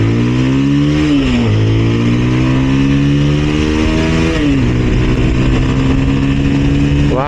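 A Bajaj Pulsar 220F motorcycle accelerates hard, the engine rising in pitch through several gear changes with brief dips between them, loud and close throughout.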